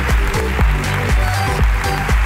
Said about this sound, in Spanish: Aplauso para la ruina de Iván